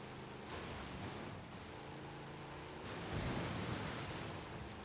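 A car in Forza Horizon 5, a Pontiac, drives slowly through water, giving a continuous broad wash of splashing and churning that swells slightly near the end, with no talk.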